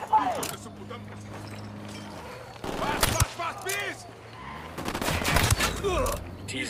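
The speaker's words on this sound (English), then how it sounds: "I'm opening fire on these shitheads." Bursts of gunfire in the video game Ghost Recon Wildlands crackle in loud clusters, with a sustained low game hum and voices talking over the action.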